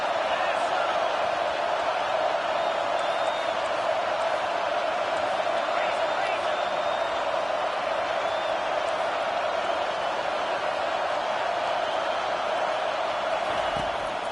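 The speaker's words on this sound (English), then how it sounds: "Decibels rising as the crowd gets behind this defense on third down." A football stadium crowd roars steadily through a college game's third-down defensive stand, a continuous loud wash of cheering and noise that never lets up, with a commentator's voice talking over it.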